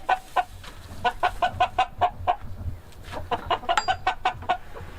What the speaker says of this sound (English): That rooster right there?